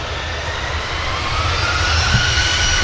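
EasyJet jet airliner departing Manchester Airport on a flight to Paris, a broad steady engine roar with a faint rising whine, building gradually and heard at a distance with no talk.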